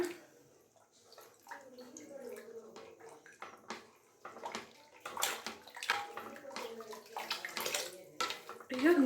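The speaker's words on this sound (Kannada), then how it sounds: "ಮಿಕ್ಸಿ ಜಾರ್ನಲ್ಲಿ ಒಂದು ಸ್ವಲ್ಪ ನೀರು ಹಾಕಿ" Water splashes and pours into a mixer jar, a steady sloshing stream that grows louder toward the end, with no talking.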